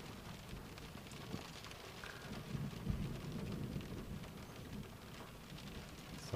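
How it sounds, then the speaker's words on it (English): Steady rain hisses over a deep, rumbling roll of thunder that swells in the middle and lingers, with no talking. "Yeah, so there's lightning overhead"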